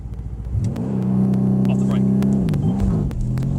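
A Mercedes-AMG C63S launches at full power on a race track, its engine swelling into a deep, loud, sustained rev that holds and then wavers as the car pulls away, with a voice speaking over it.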